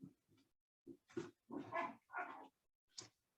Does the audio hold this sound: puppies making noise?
yes